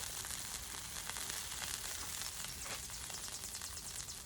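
Smashburger patties fry on a flat-top griddle, giving a steady, close, dense sizzle with fine crackling spatter that holds at an even level throughout, with no talking.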